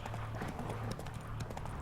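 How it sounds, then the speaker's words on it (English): Horse hooves galloping steadily in The Witcher 3, a continuous rapid clip-clop rhythm held at moderate level for the whole stretch, with game ambience beneath and no speech. "Why wouldn't I get my horse? Giddy up."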